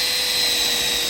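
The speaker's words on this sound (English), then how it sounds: "we drilled through the plastic and" A power drill bores through the plastic of a Milwaukee Packout rolling tool box, giving one brief, steady, high whine heard alone.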